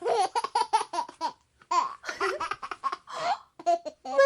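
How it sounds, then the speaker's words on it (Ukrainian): A laughing toy doll giggles in a run of bright, bouncy bursts with short pauses, loud and close, with no talk over it. "весела лялька сміється"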